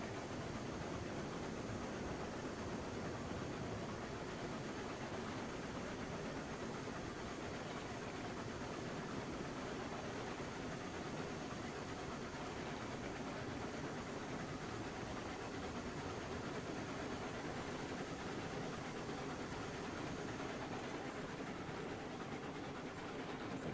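Train engine passing in the video game Railroads Online, a faint, steady rumbling hiss with low chugging texture that stays even and unbroken throughout.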